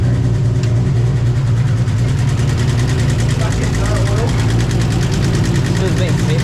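Nissan A31 Cefiro engine idling after long storage, a loud close low rumble with a fast, steady ticking running through it while people talk over it.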